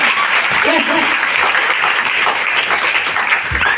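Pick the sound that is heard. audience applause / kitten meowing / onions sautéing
audience applause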